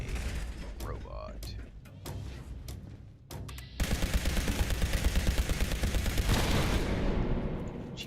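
Weapon fire in Fallout 76 starts with a few scattered shots, then a laser rifle fires in a dense, rapid, loud stream at a robot. Game effects and a player's voice are heard beneath it.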